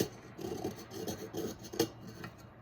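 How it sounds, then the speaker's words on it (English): A craft knife scrapes hardened epoxy off the rim of a cup, giving soft repeated rasping strokes at an uneven rhythm, close and quiet. "So I'm gonna go in with my craft knife."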